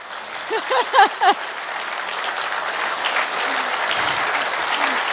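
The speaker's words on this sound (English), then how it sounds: "round of applause for that" Audience applause at a political gathering of the Australian Conservatives in Victoria, a steady crowd clapping that runs throughout, with a few brief vocal whoops or cheers rising over it near the start.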